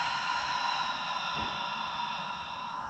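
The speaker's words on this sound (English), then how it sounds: "Open the mouth, slowly breathing out." A single slow, deep exhale through an open mouth during a restorative yoga breathing exercise, soft and brief over steady background music.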